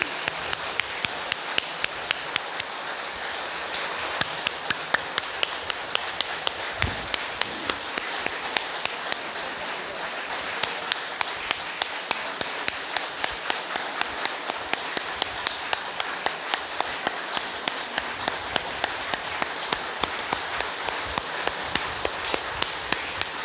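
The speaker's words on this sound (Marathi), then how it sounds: "चांगले 200-250 टाळ्या वाजवूयात." A lecture hall audience claps together in a long, steady round of applause, dense and even, the sharp hand claps forming a continuous rattling wash that goes on for over twenty seconds.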